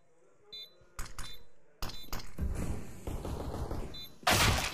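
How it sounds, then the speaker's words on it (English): Gunfire crackles in a Counter-Strike match, with scattered beeps and thuds, then a dense flurry of shots and a loud final burst near the end, mixed with muffled game sounds. "Convincing shots out of Monesy"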